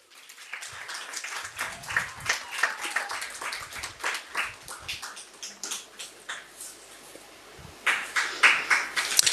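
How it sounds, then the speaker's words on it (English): A crowd applauds steadily at a graduation ceremony, many hands clapping in uneven bursts that swell and fade, with a louder surge near the end. "Keep those round of applause going."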